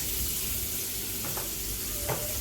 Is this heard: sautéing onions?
yes